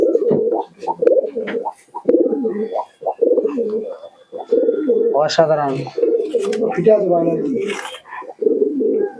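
Akash Pukuri Andra pigeons coo in soft, low bursts close by, mostly beneath someone talking steadily throughout.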